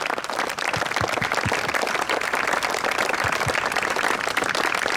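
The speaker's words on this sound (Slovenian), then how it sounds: "Dajmo jim še en aplavz." An audience claps steadily for performers at the opening of an outdoor forest classroom, a dense, even patter of applause from a sizable crowd with no talking over it.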